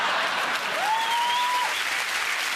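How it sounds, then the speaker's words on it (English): Studio audience applause on a comedy news show, a steady, sustained wash of clapping with a brief whistle riding over it. "Don't applaud"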